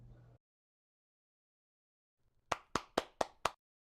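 An avatar clapping in a VR game, five crisp evenly spaced claps near and loud, following a brief sound and a long silence.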